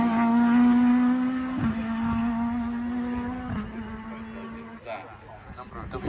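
A modified Hillman Avenger rally car pulls away at speed on an asphalt rally stage, its engine giving a loud, steady rising note with a couple of gear changes before it fades slightly into the distance.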